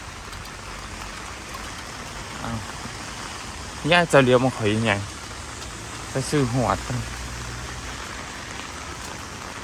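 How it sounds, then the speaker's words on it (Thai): Steady hiss of rain falling continuously in Korea, with a person speaking briefly over it in two short bursts. "ฝนตก"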